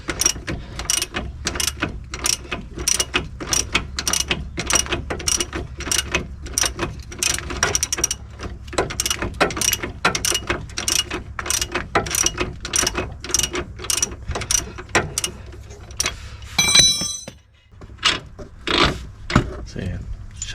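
A ratchet spanner clicks steadily as it turns a nut on the passenger-side CV axle of a 2009 Nissan Sentra, a long run of fast, even ratcheting close by, then a brief pause with a few more clicks at the end.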